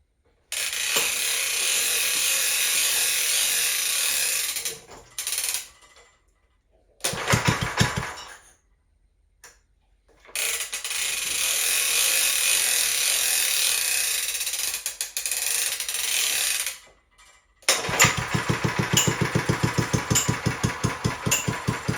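A 1950s garden tiller engine fitted with a Mikuni carburetor, started without choke: loud rough bursts of cranking and sputtering, broken by gaps, then the engine catches and settles into a steady, rapidly pulsing run close by.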